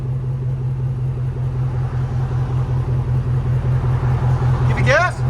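A 2006 Hummer H2 with a 6.0L V8 and a Flowchaser muffler idles with a steady, deep, even exhaust burble up close, and a brief high chirp comes near the end.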